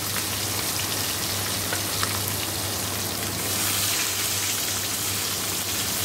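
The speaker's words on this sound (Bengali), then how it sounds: "তো চিকেন গোটাকে ভেজে নিই" Whole chicken pieces fry in a pan with a steady, dense sizzle that stays loud and even throughout, with no talking.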